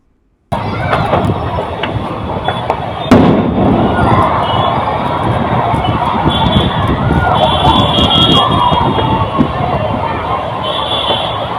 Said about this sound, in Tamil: சமையல் எரிவாயு ஒன்று திடீரென வெடித்துச் சிதறிய நிலையில்